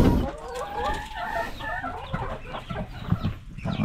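Laying hens clucking close by in a farm coop, a dense overlapping chorus of murmuring clucks and calls with occasional louder squawks running throughout.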